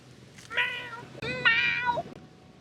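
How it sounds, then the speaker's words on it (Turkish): A cat gives two clear, drawn-out meows close by, the second longer and more insistent than the first, against a quiet room background with no speech. "Kedicim detone alır."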